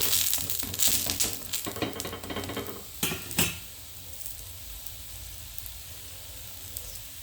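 A jackfruit dosa fries on a pan over medium heat, with a soft sizzle and a few sharp scrapes at first, then the sizzle settles into a quiet steady hiss.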